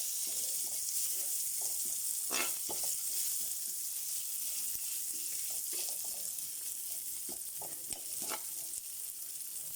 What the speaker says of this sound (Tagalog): Magigisa na po tayo para sa ating munggo.